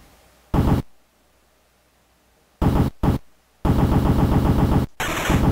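Bursts of machine gun fire from the NES game The Punisher, loud, harsh and retro-sounding, coming in several separate volleys followed by one sustained stretch of shooting.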